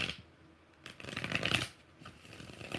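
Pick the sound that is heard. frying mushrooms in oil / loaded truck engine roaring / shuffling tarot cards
shuffling tarot cards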